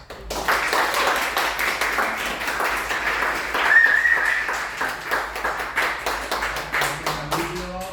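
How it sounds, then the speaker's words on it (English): An audience applauds after a film screening, a dense, steady clatter of many hands that continues throughout at moderate loudness, with a brief whistle or cheer partway through and some voices underneath. "I'm encouraged by the applause here"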